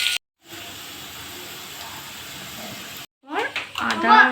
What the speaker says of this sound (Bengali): পেঁয়াজটা যতক্ষণ না লাল হয় ততক্ষণ পর্যন্ত একটু ভালো করে ভেজে নিই।